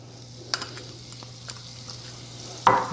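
Herb butter mixture cooks in a pan with a quiet steady sizzle under a low hum, a few light taps of a utensil, and a louder burst of sizzling at the end.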